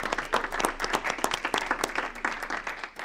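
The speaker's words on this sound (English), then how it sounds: "Sure, let's clap." Audience applause at a Livonia Public Schools board meeting honoring two educators: steady, dense clapping from many hands, moderately loud and continuous throughout with no talking over it.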